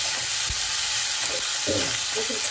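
Tomatoes stirred and frying in a pan while cooking green cabbage and broccoli, with a steady close sizzle and a few soft scraping stirs, no talk.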